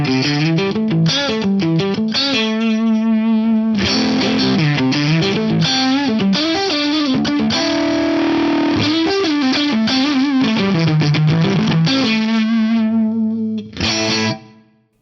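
Electric guitar played through a Deltalab Effectron ADM1020 limiter set heavily dirty, giving loud, thick distortion on sustained chords and note runs that hold steady before a short final stab and cut-off.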